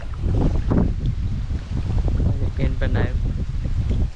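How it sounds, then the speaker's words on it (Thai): Gusty wind buffets the microphone outdoors beside a fishing pond near rice fields, producing loud, rumbling low-end blasts while someone talks over it. "ลมฝนเสียงลม"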